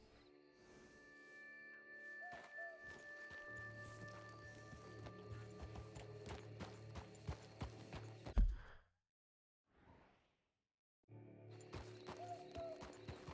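Hooves of a Kentucky Saddler horse in Red Dead Redemption 2 clip-clop steadily at a walking pace, with a game music bed underneath, then break off into near silence before the rhythm resumes.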